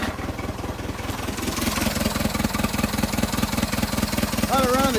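A vintage Allis-Chalmers forklift engine runs at a rough, rapid idle with a pulsing rhythm, close and loud, while people talk over it.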